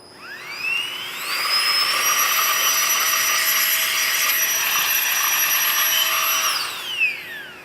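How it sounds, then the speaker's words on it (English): A small Nightcore BB Nano electric air blower whirs up to speed with a rising whine, holds a steady high-pitched hum for several seconds, then spins down as it shuts off. "It's a nice little blower from Nightcore."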